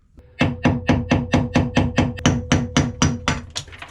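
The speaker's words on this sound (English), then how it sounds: "I'll first start by taking a flathead screwdriver and using a hammer and trying to pry it out." A hammer strikes a flathead screwdriver in a steady run of about fourteen sharp, evenly spaced metal blows, loud and close, with no voices, prying out a brittle part on a Nordhavn 43 boat's TRAC stabilizer.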